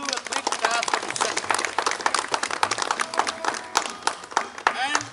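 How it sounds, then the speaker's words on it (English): Short burst of audience clapping at a Republic Day celebration gathering, dense and steady for several seconds with voices mixed in. "Let us all give a quick clap for Mr."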